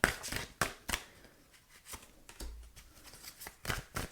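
Tarot cards are shuffled by hand, giving a series of soft, irregular riffling and snapping bursts, close and fairly quiet, with no voices.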